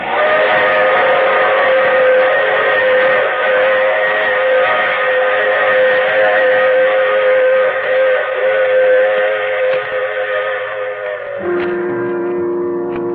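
A loud, sustained steam train whistle holding a steady chord for many seconds, shifting pitch slightly near the end, with rail rumble beneath.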